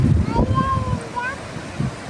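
Gusty wind rumbles into the microphone over the wash of sea waves on a Lakshadweep beach, while a person talks over it.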